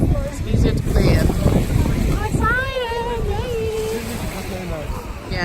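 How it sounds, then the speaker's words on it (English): Steady rush of ocean water and wind against a catamaran on a boat tour off Isla Mujeres near Cancun, constant and close, with voices and faint whistling tones over the wash. "The waves are not too high"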